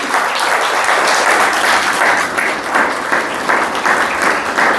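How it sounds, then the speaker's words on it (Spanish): A Spanish-speaking church congregation applauds together during a service, loud, sustained clapping that swells and rolls steadily throughout with no pause. "Dale un aplauso al Señor"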